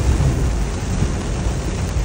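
Heavy rain in San Jose pouring loudly and continuously, a dense roar with a deep rumble underneath and no voices.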